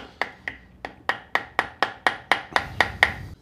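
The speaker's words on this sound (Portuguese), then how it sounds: "Vou ter que bater com o martelinho, não tem jeito" A small hammer taps a part into place on a drilling setup, about a dozen sharp, close metallic knocks struck at a steady, even pace with no talking.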